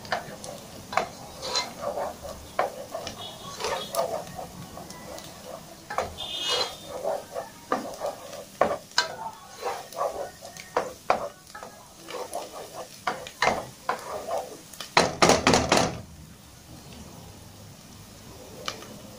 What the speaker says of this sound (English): So the garlic in the oil.